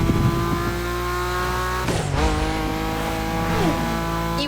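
Car drifting in The Crew Motorfest video game, a loud steady engine drone with a harmonic whine, tire squeal sliding through the middle, and revs shifting as the slide goes on.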